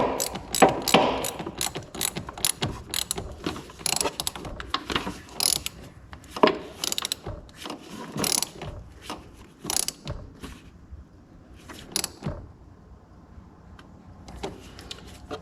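A hand ratchet cinches down a 9/16 nut, making many quick, close clicking strokes in uneven bursts that slow toward the end, with a few pauses between strokes and no talk.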